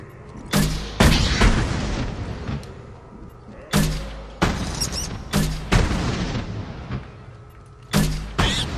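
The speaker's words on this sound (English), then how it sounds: "But first I want to use the defense gun." A mounted defense gun firing in the video game Mass Effect 2: loud, close booming shots at irregular intervals, some in quick pairs, with quieter rumble between them.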